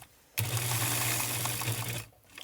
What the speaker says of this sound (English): I'm going to go back over and I'm going to sew around that.